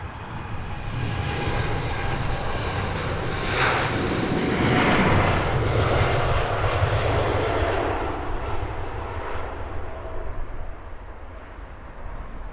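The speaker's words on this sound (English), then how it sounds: "Long takeoff roll for this Dreamliner." A Boeing 787 Dreamliner airliner rolls for takeoff at Heathrow Airport, its engines giving a loud, continuous broadband roar that swells toward the middle and then slowly recedes, with no voices over it.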